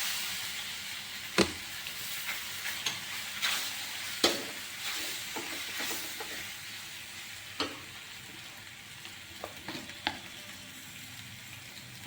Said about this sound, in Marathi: आता ह्यात आपण हा उकडून घेतलेला पास्ता घालणार आहोत